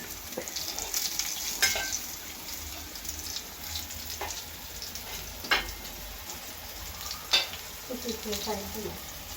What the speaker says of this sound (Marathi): टोल मासा फ्राय करतोय वेदांत गवळकर.